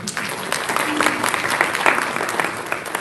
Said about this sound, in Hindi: ताली ठोक दो ये सब